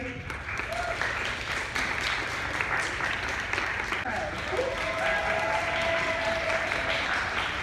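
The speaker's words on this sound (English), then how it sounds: "that's the best round of applause we've had all morning" Round of applause from an audience at a morning psychology day event, sustained clapping throughout with a voice talking over it and faint crowd murmur.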